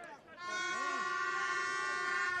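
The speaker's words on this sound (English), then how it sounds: "the air horns back out for the second half" A loud, sustained air horn blown by a football crowd blares steadily and close, holding one harsh tone for several seconds with a faint crowd din underneath.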